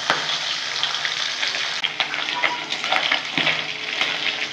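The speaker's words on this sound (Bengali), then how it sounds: "আমি এই মাছগুলো ভেজে নিচ্ছি বন্ধুরা, কড়া করে ভাজবো, মাছ কড়া করে ভাজি।" Tengra fish deep frying in hot oil for a Bengali-style curry, a continuous loud crackling sizzle with sharp pops and occasional clinks and stirring knocks from the pan, close up and with no talking.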